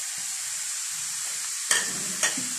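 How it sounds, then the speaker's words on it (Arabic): Carrot, zucchini and chicken filling stirred in a pan, a soft steady sizzle with two sharp scraping clicks from the utensil near the end, close and alone without talk. "كنت كنحاول انني نخلط هادشي ونخليه حتى يتشحى مزيان"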